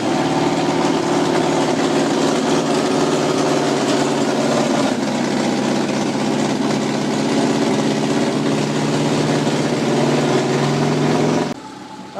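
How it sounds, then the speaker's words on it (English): A Subaru engine fitted in a van conversion idles steadily up close, a continuous even rumble that holds without change and then drops off abruptly near the end. "the van is now running. It's idling on its own power right here"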